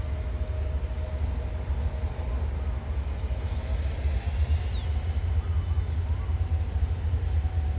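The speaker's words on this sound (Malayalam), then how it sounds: "നമ്മൾ വന്ന ഒരു ട്രെയിൻ ഇതാ ഇവിടുന്ന് JBയെ ലക്ഷ്യമാക്കിക്കൊണ്ട് പോവുകയാണ്." A KTM intercity train departs a Malaysian station bound for Johor Bahru, its low steady rumble and rolling noise filling the scene at moderate distance, with a faint high squeal briefly rising partway through.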